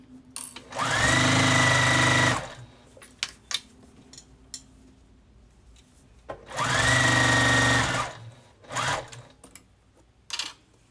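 A sewing machine stitches a quilt in two sustained whirring bursts of about two seconds each, separated by quiet pauses with small clicks and handling noises, followed by a short final burst.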